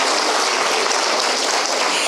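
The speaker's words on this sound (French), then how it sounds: "soroptimistes de Belgique et de Suisse, on les applaudit." Dense applause from a crowd at a Soroptimist gathering, loud and steady throughout, with no pause.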